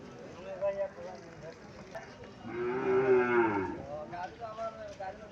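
A one-year-old Sahiwal bull calf lets out a single drawn-out moo in the middle of the clip, with people talking faintly in the background.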